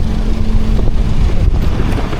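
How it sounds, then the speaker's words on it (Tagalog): Strong headwind buffeting an action camera microphone while riding, a loud continuous low rumble and roar with no talk. "Pero grabe yung headwind."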